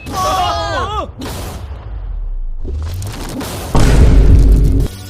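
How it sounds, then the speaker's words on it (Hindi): A deep, loud boom of an explosion blowing up a safe bursts out after a voice and other noise, with a heavy rumbling thud lingering briefly before it cuts off. "इस धमाके ने सच में मुझे डरा दिया"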